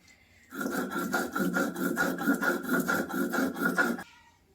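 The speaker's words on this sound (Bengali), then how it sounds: "এবার বাটা হচ্ছে জিরে আর ধনে।" Cumin and coriander seeds ground on a traditional stone slab with a grinding stone: a rapid, rhythmic rasping scrape, strokes repeating steadily for about three and a half seconds, close and clear.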